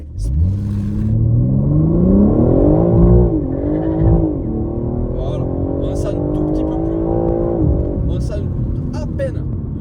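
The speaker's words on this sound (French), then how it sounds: "ça a crissé légèrement quand ça a cherché le couple max" A 530 hp BMW M3 Touring launches hard, its engine note climbing loud and close through the revs, dipping at a gear change, then pulling steadily again.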